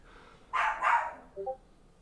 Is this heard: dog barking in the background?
yes